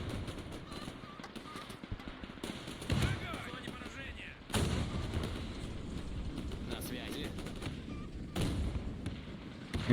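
Gunfire and explosions in the Men of War 2 war strategy game's Soviet campaign, repeated shots and heavy thumps over a steady battle din, loud and continuous.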